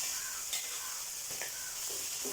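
Chicken curry being stirred in a pan on the stove: faint, close scraping and soft sizzling under a steady hiss, with a few brief clinks near the end.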